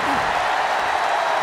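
Wrestling arena crowd in WWE 2K24 during a Tommaso Ciampa match, a steady wash of cheering and applause at a moderate level, with a brief voice at the start.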